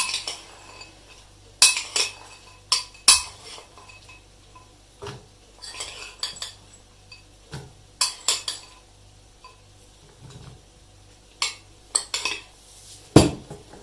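A spoon clinks and scrapes against a bowl while mixing cake batter with dried fruit and nuts, giving intermittent sharp knocks and soft scraping strokes spread unevenly, close and quiet between hits.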